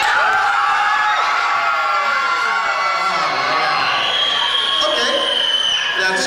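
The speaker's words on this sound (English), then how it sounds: "Let me hear you guys yell." A group of children at a Sunday school gathering in a gym yell and whoop together, a loud, sustained crowd roar that stays steady for several seconds.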